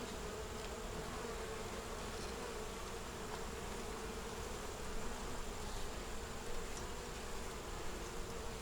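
Honeybees drone steadily in a deep nucleus hive that has been robbed out, leaving few bees and the queen; a faint, continuous buzzing with no voices.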